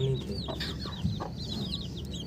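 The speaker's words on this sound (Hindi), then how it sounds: "ये वाली जो मुर्गी है ये वाली, ये कड़क हो गई है क्या? अभी अंडों पे बैठी है।" A broody hen sits on a clutch of eggs and clucks in low, soft bursts, with other chicken calls scattered around it in a quiet farmyard.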